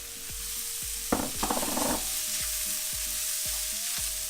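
Instant noodles drop into a hot pan of sauce with a sudden loud sizzle and stir clatter, then settle into a steady frying hiss under a repeating low mechanical thump.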